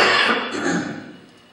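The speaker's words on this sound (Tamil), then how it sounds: "இந்த இருமலுக்கு தண்ணி குடிக்க முடியாது. இது வழக்கமாக வருகிற இருமல்" A single harsh, close cough from a man preaching a sermon bursts out loudly and trails off over about a second and a half.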